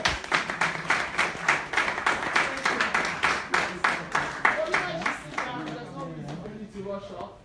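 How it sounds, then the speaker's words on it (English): A small audience gives a round of applause, loud rhythmic clapping that beats in unison for several seconds, then fades out as a voice begins talking over the tail end. "Please give them a round of applause."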